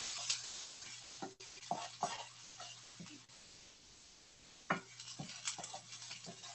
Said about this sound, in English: just heat this on high for a few minutes to just kind of brown the garlic and the onion